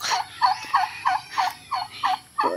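Chickens cluck in a rapid, repeated series of about eight short bursts, close and fairly loud, with no talking.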